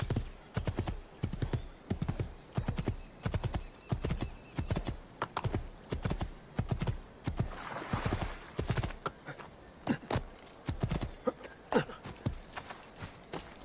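Hoofbeats of a horse in Assassin's Creed II land in loud, rhythmic bursts of clip-clop, close and distinct, and a whinny rises midway.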